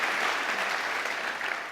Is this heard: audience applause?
yes